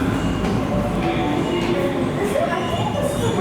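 A train rumbles and clatters through Sydney Central railway station, a loud steady roar with rail noise echoing around the platforms, and voices are faintly present underneath.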